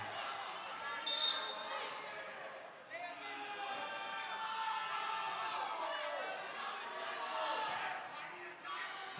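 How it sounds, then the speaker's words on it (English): The crowd at a boys' high school basketball game reacts with a swelling burst of shouts and chatter in a gym, a busy noisy murmur that rises and falls, with a commentator speaking over it. "Crowd here wanting a flop."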